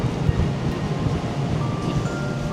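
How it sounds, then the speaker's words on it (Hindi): Strong wind roars across open ground in Antarctica, a dense, steady, loud buffeting rush that pummels the microphone with gusty low-end thumps throughout. "क्रेजी हवा है भाई।"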